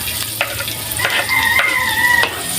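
Garlic frying in a pan for creamy spaghetti, a close steady sizzle with a few spoon scrapes and taps, and a rooster crowing faintly in the background.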